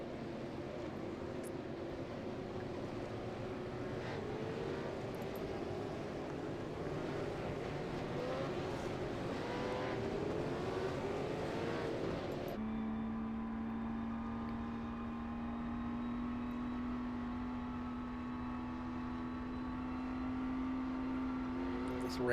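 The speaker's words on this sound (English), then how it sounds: "Reagan and the RUF cars there." RUF supercars, including an S3R7, racing at the 2.43-mile Mosport track near Bowmanville, Canada, sound as a steady roar of engines. Partway through it shifts to a sustained droning engine note, with no talk over it.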